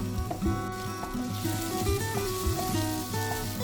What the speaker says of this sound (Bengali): এবার সবগুলোকে একসাথে খুব ভালো করে ফ্রাই করে নিতে হবে।